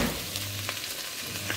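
A steady, close sizzle of tomatoes frying in a hot pan, with faint crackles and no voices.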